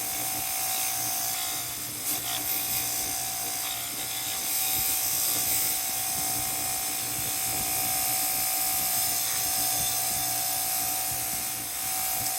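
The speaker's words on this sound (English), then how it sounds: "Anybody who doesn't have one of these Harbor Freight buffer things with the Scotch-Brite wheels, you're missing out" A Harbor Freight bench buffer fitted with Scotch-Brite wheels runs continuously in a workshop, a steady whirring mechanical whine with a sustained tone and faint rattling, heard alone without talk.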